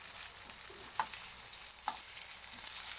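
Potato pieces frying in hot oil in a home kitchen, a steady bright sizzle with a couple of soft stirring knocks, close and moderately quiet, with no voices.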